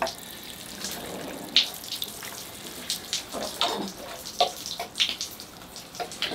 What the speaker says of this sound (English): So here I go with the rinse.